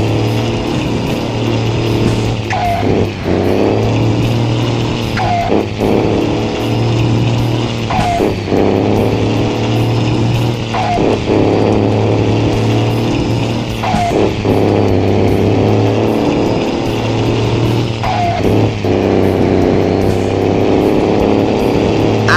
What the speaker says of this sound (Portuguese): Foi com o freio motor, velho.